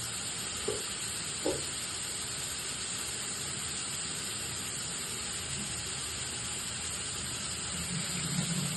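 Eggplant with onion and a pinch of salt cooks in a pan, giving a soft, steady sizzle and hiss throughout, with a couple of faint clinks near the start.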